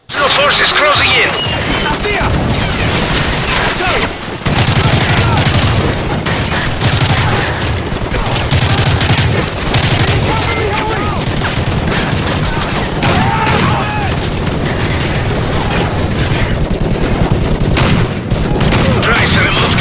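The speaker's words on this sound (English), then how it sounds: "Lay down covering fire so we can move up the road!" Heavy sustained gunfire and explosions in Call of Duty 4: Modern Warfare, dense loud volleys and booms throughout a battle, with shouted voices mixed in.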